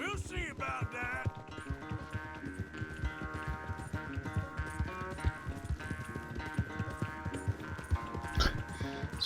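Horses gallop in a race in the video game Red Dead Redemption 2, with rapid, busy hoofbeats running continuously under a music score and voices talking.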